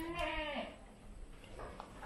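A goat bleats once, near and loud, with a wavering cry at the start on a goat farm in Barili, Cebu, Philippines. Faint farm background noise follows, with a few soft distant calls.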